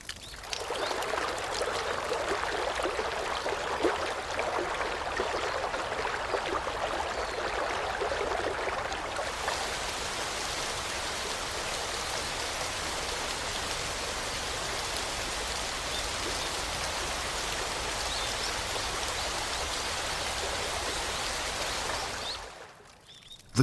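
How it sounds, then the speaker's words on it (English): Cold mountain water spreads across dry rice fields in a Japanese satoyama, a continuous rushing, trickling flow that stays steady and fairly close for over twenty seconds, with no voices. "The cold mountain water spreads over the dry fields."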